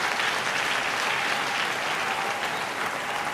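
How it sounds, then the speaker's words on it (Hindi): Applause at a comic Hindi poetry recital: a hall full of listeners claps in a dense, steady wash that stays at an even level from start to finish. "आप ताली बजाइए, बजाओ ताली।"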